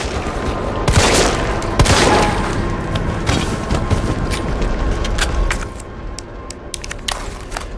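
Rapid bursts of gunfire aimed at zombies in Resident Evil 3 Remake on PC, loud sharp shots in quick clusters early on, thinning to scattered single cracks and game ambience toward the end.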